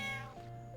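A single cat meow from the Final Fantasy 9 video game, short, loud and close, sliding down in pitch before fading over a low steady background tone.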